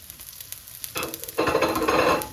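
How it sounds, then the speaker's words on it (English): Garlic and shallots hit a hot pan over medium heat and start sizzling, with a soft stirring scrape, the frying getting louder and steadier over a couple of seconds. "we stir in the garlic and the shallots"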